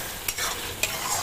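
Garlic ginger paste frying in a pan, a steady soft sizzle with two brief scraping stirs, close and alone.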